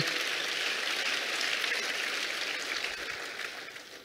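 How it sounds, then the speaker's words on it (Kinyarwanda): A church congregation applauds in praise, a steady wash of many hands clapping that fades slightly toward the end, heard from within the crowd. "Imana amashyi cyane"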